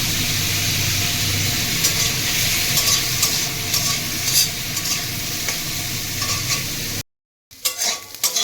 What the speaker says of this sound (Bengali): মূলো ভাজা ভাজা করে নিয়েছি।